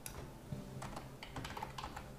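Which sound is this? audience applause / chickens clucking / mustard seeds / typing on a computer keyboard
typing on a computer keyboard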